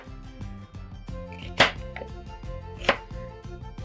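A knife chops through an onion on a board in a Peruvian home kitchen, with a steady run of soft close taps and two sharper, louder cuts partway through, heard alone without talk.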